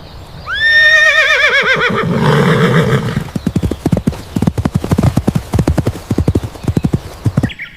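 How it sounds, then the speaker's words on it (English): A horse gives a loud, wavering whinny and snort, followed by a quick run of hooves clip-clopping in a close, even rhythm that stops abruptly. "This is a horse."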